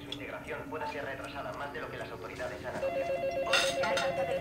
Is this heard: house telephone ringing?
yes